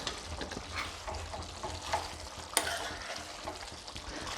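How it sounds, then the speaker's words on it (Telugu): A ladle stirs a pot of curry with chunky pieces, making a soft, continuous bubbling sizzle broken by a few scraping clinks against the pot, quiet and without speech. "ఇట్లా మన గంటె పెట్టి ఒక్క రౌండ్ తిప్పుతా జర చూడండి ఒక్కసారి."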